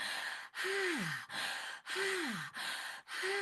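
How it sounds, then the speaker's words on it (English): Quick open-mouthed panting breaths in a stimulating breathing exercise, a fast, steady in-and-out rhythm close up, with short breaks between bursts and a breathy voiced tone sliding downward in places. "Open the mouth and just go, like you're panting."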